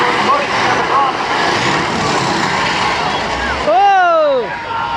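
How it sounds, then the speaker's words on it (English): Loud, rumbling school bus engines fill a demolition derby at Riverhead Raceway, a dense roar of motors near and far, with a voice briefly rising over the din near the end. "Sounds like a lot more buses breaking down."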